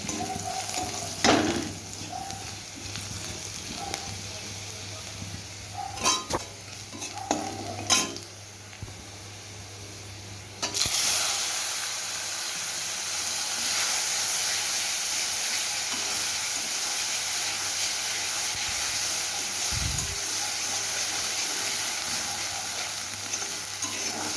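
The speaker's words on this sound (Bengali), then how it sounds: "লাল লাল রসুনটা লাল লাল হলে আমি তারপর পেস্টটাকে দিয়ে" Garlic and spice paste frying in a pan for a leaf dish, first with scattered stirring clatters and scrapes, then a loud, steady sizzle that carries on to the end.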